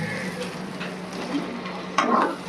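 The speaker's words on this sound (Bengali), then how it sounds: "শুধু একটু নাড়াচাড়া এভাবে মিশিয়ে দিয়ে গ্যাসটা বন্ধ করে দেবো।" Egg malai tikka masala is stirred in a pan over a gas flame, a soft scraping and gentle sizzle with a louder clatter of the spoon against the pan near the end, close, with no talking.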